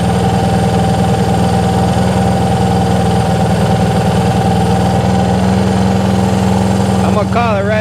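A Honda CB360 motorcycle engine idles steadily during a carburetor sync, a loud close low throbbing rumble that runs throughout, with someone talking over it near the end.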